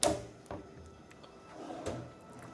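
A hotel room drawer at Universal Orlando's Terra Luna Resort slides and knocks shut, giving a firm wooden thump, then lighter rattles and a second soft bump, close and quiet.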